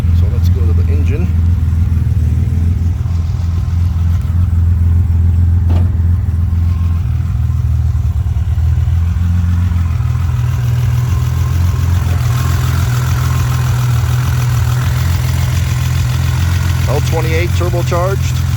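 A turbocharged L28 engine in a restored Datsun 280Z runs steadily at idle, a loud close low rumble with occasional light revs, while a person talks over it throughout.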